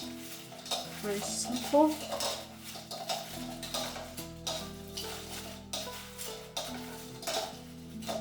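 Chicken wings tossed in a bowl with black pepper, salt and garlic powder, giving soft, irregular scraping and rattling close by while a voice speaks briefly.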